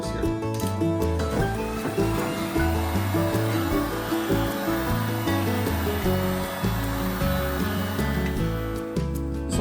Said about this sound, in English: I'm just going to run my heat gun lightly over the surface here